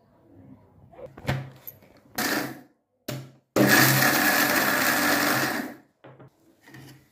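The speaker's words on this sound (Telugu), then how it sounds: "ఇవి శనగింజలు అన్నీ వేసుకొని మిక్సీ పట్టుకోవాలి" A kitchen mixer grinder blitzes a jar of peanuts in two short pulses, then one long, loud continuous run of whirring, close to the mic, with quiet pauses between bursts.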